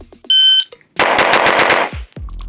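Rapid pistol fire from an Infinity 2011 during a bill drill, a fast burst of close, loud shots in quick succession, preceded by a beeping shot timer and followed by a faint thud.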